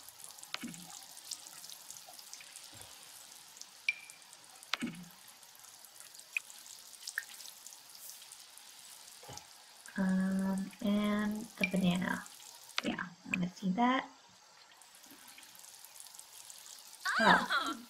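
Watering plants in The Sims 4 gives a run of soft trickling splashes, with quiet scattered clicks at first and then several bursts of water spray close together near the middle, followed by a brief final splash.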